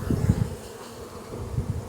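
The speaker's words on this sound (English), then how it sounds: "Wasn't planning to shake a bunch of bees today" Honey bees buzzing at a hive during a Demaree split, a close, uneven swarm drone with louder bursts at the start and end.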